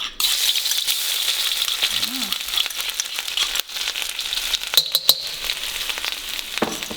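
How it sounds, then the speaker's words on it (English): Garlic and chili sizzling hard in a smoking-hot wok, a loud continuous frying hiss with brief stirring clatter and scrapes, no talking. "first I'm going to add the garlic and the chili."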